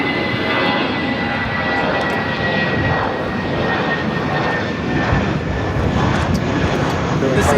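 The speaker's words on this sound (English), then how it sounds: "This A320 taking off to Las Vegas" An Airbus A320 jet roars down the runway on takeoff at Los Angeles airport, a loud sustained broadband engine rush that holds steady for several seconds with faint talk underneath.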